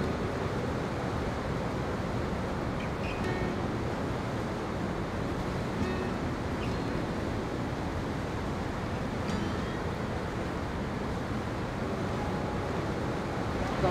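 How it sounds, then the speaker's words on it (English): Niagara Falls roars as a huge volume of water pours down without pause, a steady, dense rushing that stays even and unbroken for the whole stretch, heard from a distance and with no talking. "It just amazes me that that much water pours constantly, day after day after day."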